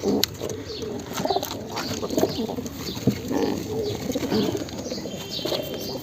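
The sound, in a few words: pigeons cooing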